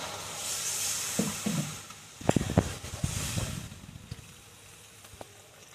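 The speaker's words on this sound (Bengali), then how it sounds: "এবার দিয়ে দেবো জল" Water is poured into a hot pot of taro and fish curry, producing a steady hiss and sizzle with a few splashes and clinks of the pot, close up.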